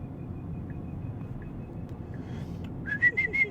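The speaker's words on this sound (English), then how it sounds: "front motor whistling oscillation aside" Front electric motor of a Tesla Cybertruck whistling while driving, a steady high thin tone over low road rumble, then a few rising, pulsing whistles toward the end.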